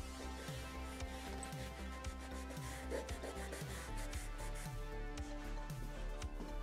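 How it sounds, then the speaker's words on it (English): Wood stain being rubbed by hand over MDF, a soft repeated rubbing and rasping with a steady back-and-forth rhythm, heard faintly beneath background music. "We wanted any of the visible MDF to match the frame, so we just rubbed some stain over it."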